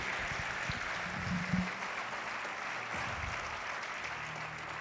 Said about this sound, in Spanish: denle un aplauso grande a nuestro Señor Jesucristo